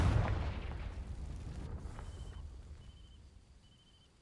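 A Confringo fire spell blast in a Harry Potter video game, setting dry vines alight: a loud explosive burst at the start that rumbles and decays over several seconds, with a faint crackle trailing off.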